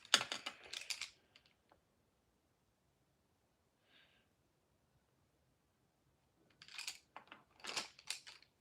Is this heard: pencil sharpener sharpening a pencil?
yes